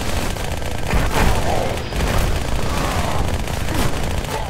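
Heavy gunfire in Halo: Spartan Assault, a continuous barrage of rapid shots and booming impacts filling the mix at close range, with no talk.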